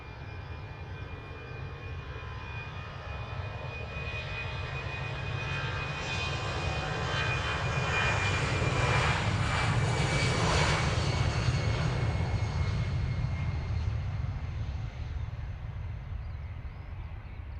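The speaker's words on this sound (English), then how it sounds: "Watch this EasyJet taking to the skies" An EasyJet airliner takes off at London Luton Airport, its jet engines a steady broadband roar that swells to a peak midway and then slowly fades as it climbs away, with no voices.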